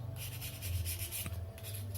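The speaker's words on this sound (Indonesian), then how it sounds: "Kita amplas bagian mawarnya, pinggir-pinggirnya sampai rata" Fine 600-grit sandpaper rubs over a gas stove burner, giving soft, steady scratchy strokes, faint and close, with no talking.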